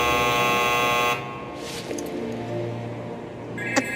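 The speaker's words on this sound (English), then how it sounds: "A buzzer, I think." A loud electronic buzzer sounds in a Mobius Final Fantasy cutscene: a steady harsh tone that cuts off abruptly after about a second, followed by quieter ambience with faint tones and a brief blip near the end.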